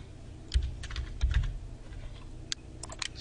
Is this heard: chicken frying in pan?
no